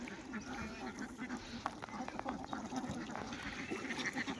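A flock of farm ducks, kept confined in Chalan Beel, rest after feeding, giving a dense, continuous stream of nearby quacks and chatter.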